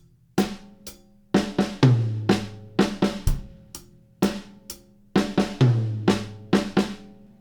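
A slow drum fill played twice through, mostly on snare, with a few deeper tom strokes. Each pass is a loud, closely miked run of separate hits with short pauses between them, and there is no talking.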